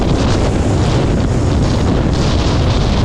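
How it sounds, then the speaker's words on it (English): Strong headwind buffeting the microphone while cycling along a highway in winter, a loud continuous roaring rush of wind filling the whole stretch with no voices. "It was a hard 40 straight miles of headwind."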